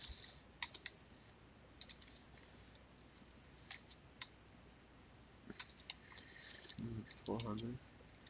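Sparse bursts of computer keyboard typing while building a website in HTML and CSS, quick clusters of close keystroke clicks separated by pauses, with a brief low voice near the end.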